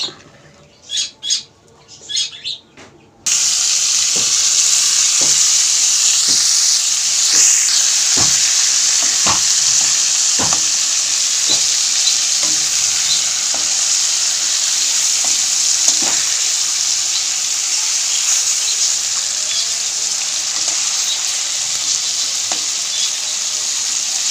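Tilapia fish pieces fry in hot oil in a pan, giving a loud, steady sizzle with scattered pops and crackles throughout, following a few seconds of brief clattering at the start.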